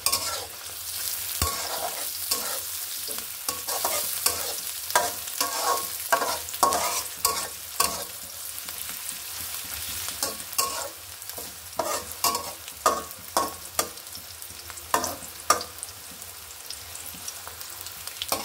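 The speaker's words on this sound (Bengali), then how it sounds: "এটা আমি ভালোভাবে এখন পেঁয়াজটা বেরেস্তা করে নেব" Sliced onions fry in hot oil until crisp for beresta, a continuous sizzle broken by frequent sharp scraping clicks of stirring, close and steady with no voices.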